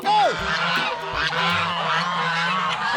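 A goose family honks loudly at close range, several overlapping calls rising over a busy outdoor farmyard background, with a voice talking lightly beneath them.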